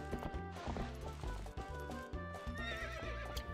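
Epona the horse neighs and gallops in Zelda Twilight Princess HD, rhythmic clip-clopping hoofbeats at a steady gallop with high whinnies rising over them, loud and close against game music.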